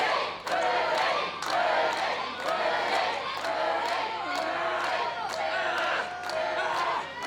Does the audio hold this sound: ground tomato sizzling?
no